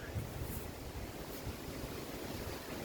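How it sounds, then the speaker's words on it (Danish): Strong, steady autumn storm wind roaring and buffeting, with low rumbling gusts and a broad rushing noise throughout, close and loud. "virkelig blæsevejr, nærmest stormvejr"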